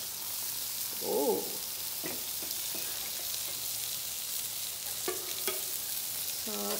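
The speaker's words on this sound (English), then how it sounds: "How it's cooking the burger." A beef burger fries in a pan with a steady soft sizzle throughout, broken by a few light scrapes and clinks of a utensil, heard close and moderately quiet with no talking.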